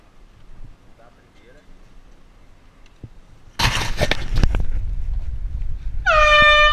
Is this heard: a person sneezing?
no